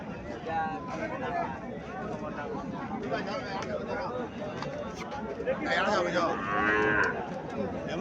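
A Haryana cow and her calf on a farm in Comilla give a moo late in the stretch over a low background of people talking and farmyard noise.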